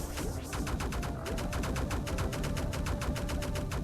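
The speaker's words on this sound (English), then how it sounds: "Machine gun Waylay" Rapid machine-gun fire from the Waylay weapon in the video game The Void, a dense, steady stream of sharp shots that accelerates into a fast continuous rattle, loud and close throughout with no voices.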